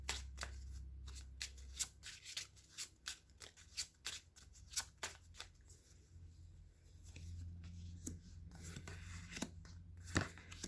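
Cards being shuffled for a tarot-style reading, a series of quiet, close, crisp riffling snaps and taps in irregular bursts over a faint low hum, with no talking.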